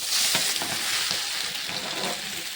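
Grated coconut sizzles and fries in hot cooking oil in a pan, a dense steady hiss with occasional stirring scrapes, close and continuous.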